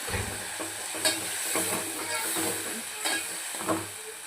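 Dry spices sizzling loudly in hot oil with a bubbling hiss as water is added, a few sharp spatters and stirring scrapes throughout.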